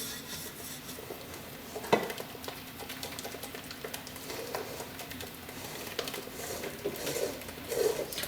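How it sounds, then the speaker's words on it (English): A whisk scrapes and turns through a thick powdered sugar caramel glaze in a bowl, with an uneven rasping, rubbing rhythm and a few sharper knocks, close and fairly quiet. "Whisking and turning will help break up any clumps that are in there of the powdered sugar."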